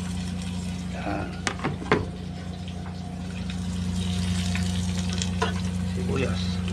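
Onions fry in a pan for Filipino chicken adobo, a soft steady sizzle with a few sharp clinks and stirring knocks early on, up close under a constant low hum.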